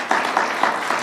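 Audience applause at a community growth celebration in Western Massachusetts, a short burst of steady, dense clapping from a crowd, fairly loud and even throughout.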